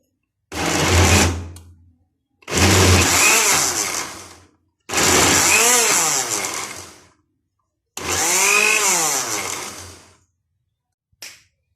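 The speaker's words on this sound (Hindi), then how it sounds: "मैंने ये साग को ग्राइंड कर लिया है" Electric grinder blending mustard greens for saag, run in four separate bursts of roughly two seconds each with short pauses between them, loud, close and whirring, ending with a brief final blip.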